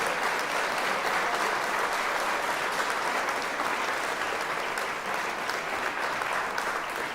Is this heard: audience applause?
yes